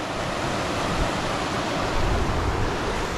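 A mountain river in Montana rushes in spring runoff, a steady, loud, broadband roar of fast water close by with no voices.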